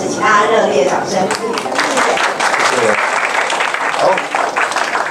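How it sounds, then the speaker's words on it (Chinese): An audience claps in a burst of loud, dense applause that carries on for several seconds. A voice speaks over the start of the clapping. "请大家热烈掌声"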